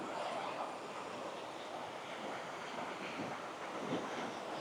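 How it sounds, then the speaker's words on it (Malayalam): Water of the Souparnika river rushes in a steady, moderately faint wash, with some wind noise on the microphone and no talking. "വെള്ളം ഒഴുകുന്ന ശബ്ദം കേൾക്കുന്നുണ്ട് എന്ന് കരുതുന്നു"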